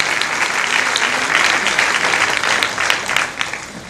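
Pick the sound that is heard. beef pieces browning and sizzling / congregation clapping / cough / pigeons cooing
congregation clapping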